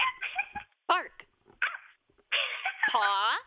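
A voice imitates a dog, giving a few short yapping barks and whimpering yips close to the mic, alone with no other sound behind them.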